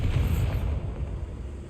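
Bombarda spell explosion in the Hogwarts Legacy video game, a loud, deep rumbling blast that swells at once and then rolls on steadily before fading, with no voices over it.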